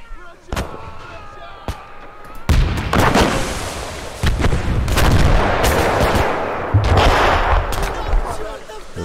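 Artillery gunfire in the Gates of Hell video game, with sharp cannon blasts and rattling bursts of gunfire, loud and close, rolling into a dense barrage of overlapping shots.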